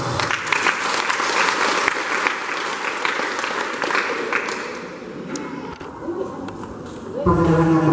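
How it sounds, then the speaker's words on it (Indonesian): Sustained applause from a crowd at a church closing service, a dense steady clatter of clapping that thins slightly toward the end before a louder burst returns. "Berikan aplaus."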